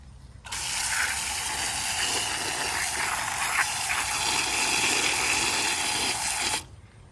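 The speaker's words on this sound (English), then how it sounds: "And I'm going to go ahead and spray off the dirt." Garden hose spraying water to wash dirt off freshly lifted elephant ear plant bulbs, a steady, loud, broadband hiss that starts abruptly, runs unbroken for about six seconds, then cuts off.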